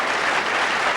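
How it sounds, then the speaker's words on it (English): Studio audience applauding at a 1981 live television variety show, a steady dense wash of clapping with no gaps, filling the whole moment at a loud, even level. "They were still clapping."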